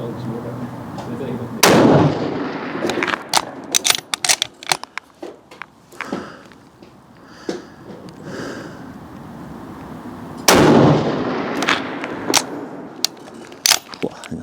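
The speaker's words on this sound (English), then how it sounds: "Let's actually just take a few shots so you can see how this reacts on recoil." Rifle shots fired outdoors from a rifle carried on a two-point sling: two loud, sharp reports several seconds apart, each with a rolling echo, among scattered clicks and handling noise.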